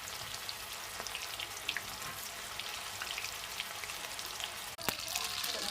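Mustard seeds and cumin crackle and sizzle in hot oil for a paneer curry, a soft, dense spatter of tiny pops running steadily throughout with one sharper burst near the end, heard close and fairly quiet.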